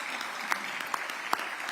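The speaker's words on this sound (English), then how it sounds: "let's give yourselves a round of applause" A crowd at a community college gathering gives a brief, faint round of applause, a soft patter with a few distinct louder claps spaced through under two seconds.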